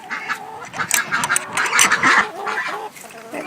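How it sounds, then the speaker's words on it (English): A pet duck quacks repeatedly among chickens in a farmyard coop, close and fairly loud, with other bird chatter mixed in. "That duck likes to spend time there talking to the chickens, I guess."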